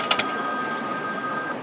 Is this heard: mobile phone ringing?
yes